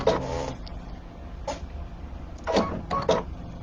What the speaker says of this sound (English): So it's going to scan the second snowman.